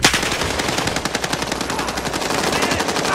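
Rapid automatic M4 rifle fire in Call of Duty Warzone, a dense continuous burst of loud shots lasting the whole stretch.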